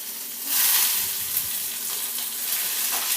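Onions frying in a pan for chicken pulao, a steady close sizzle with soft scraping and stirring sounds, loud and even throughout with no voices.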